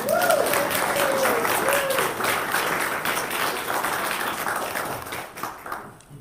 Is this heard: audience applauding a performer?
yes